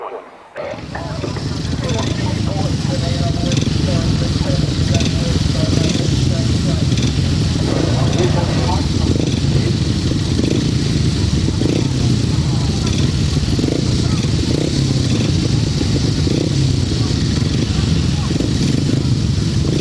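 500cc sidecar racing motorcycles at a grasstrack meeting: a rising, sustained roar of several engines revving together, loud and continuous after a brief quiet start, with a voice over a loudspeaker talking across it.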